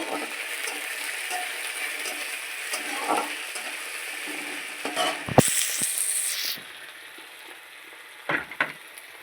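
Potatoes and green chillies frying in a pan for a greens dish hiss with a steady close sizzle, broken by scraping stirs, a brief louder high-pitched spurt midway and a couple of knocks near the end.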